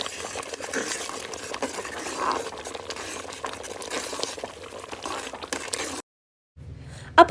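Puli inji is stirred as it thickens in a pot, making a continuous close scraping and bubbling texture. The sound stops briefly, then a couple of loud clattering knocks follow.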